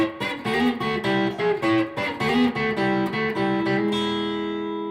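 Electric blues guitar lick in E built on sixths, a quick run of plucked double stops ending on a ringing, sustained chord that slowly fades, played alone.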